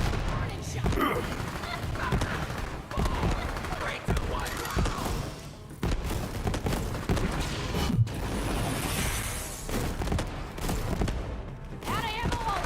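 Rapid gunfire in the Borderlands 3 Bounty of Blood video game: dense, overlapping shots and booming impacts rattle almost nonstop, with voices speaking over the shooting.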